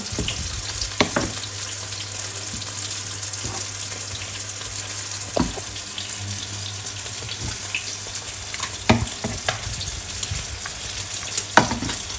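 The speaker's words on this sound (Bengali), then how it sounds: "তেল আর হলুদ দেওয়া শেষ এখন মিক্স করে ভালোভাবে মিক্স করে ঢেকে দিব" Frozen taro stolons being stirred with oil and turmeric in a pan, a continuous sizzle under repeated scraping and knocking stir strokes spread across the stretch, close and moderately loud, with no talking.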